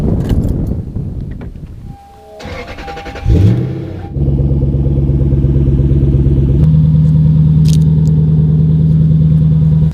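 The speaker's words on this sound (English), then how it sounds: "So the exhaust isn't, it's pretty loud right now." Suzuki GS400 motorcycle with an aftermarket exhaust, starting after some clatter, then settling into a loud, steady idle with a slight step up in pitch partway through, close by with no talking.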